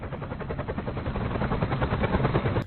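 Helicopter rotor noise, a loud continuous rhythmic chopping thump throughout, close and steady without speech.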